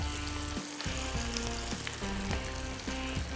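Food frying in a pan, a loud continuous close sizzle with periodic scraping and tapping of a utensil stirring at roughly half-second intervals.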